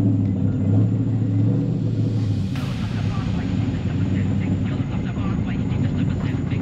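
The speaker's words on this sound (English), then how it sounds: "I love riding in this car." Inside a Ford Mustang on the move, a steady low engine and road rumble holds throughout with a sharp brief swish partway, while voices talk faintly over it.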